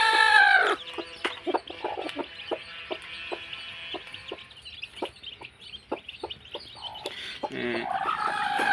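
A brood of twelve newly hatched chicks with their hen, giving a run of short, high cheeping peeps at an uneven pace, close by, with the hen clucking and louder calls at the start and end.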